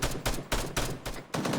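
Rapid bursts of automatic gunfire from an Arma 3 military firefight at a tree line, about five loud, close volleys in quick succession with brief gaps, no talking.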